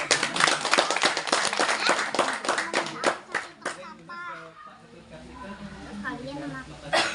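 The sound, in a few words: children clapping hands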